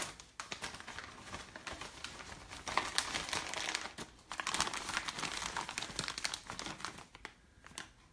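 Plastic parts bag crinkling and rustling continuously up close during an RC truck unboxing, with irregular crackling bursts and no talk.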